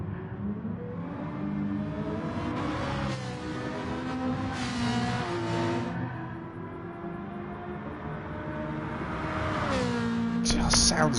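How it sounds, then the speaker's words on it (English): A Ferrari race car engine drones and rises in pitch during a Le Mans GR1-GR3 race, heard steadily throughout and climbing near the end, with someone commentating over it. "Sounds glorious, does that Ferrari?"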